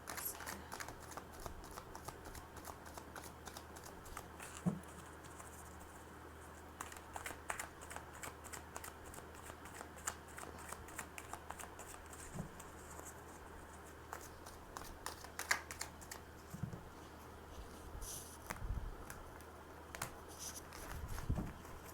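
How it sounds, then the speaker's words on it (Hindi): A deck of tarot cards shuffled by hand nearby, producing soft, continuous riffling and papery flicks with occasional light taps, low in level against a quiet room, with no speech. "मैंने शफलिंग कर ली है। ऐसे तो प्री शफल करके रखते हैं हम ये कार्ड्स, फिर भी आपके सामने कर लिया।"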